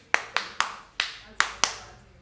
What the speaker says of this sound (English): Clap hands for Auntie Hilda.